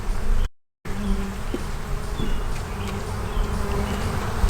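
Worker honey bees hatching from their cells, a steady close buzzing drone that continues throughout with small shifts in pitch, no talking.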